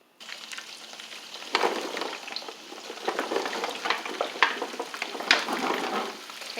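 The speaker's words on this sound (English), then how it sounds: "I'm making my country fried potatoes, and I use that bacon grease from the bacon that I cooked" Potatoes frying in bacon grease in a home kitchen pan, a steady close sizzle with occasional scrapes and stirring knocks, no talking.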